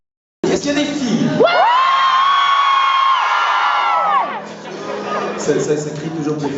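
A concert crowd at a show at the Florida roars, shouting and cheering loudly and continuously, with a long sustained collective yell in the middle before the noise settles into a mix of scattered whoops and voices.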